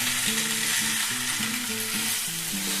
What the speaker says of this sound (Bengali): এটাকে আমি এখন চাউমিনগুলোকে ভেজে নেব খুব ভালো করে একটু সময় নিয়ে ভাজতে হবে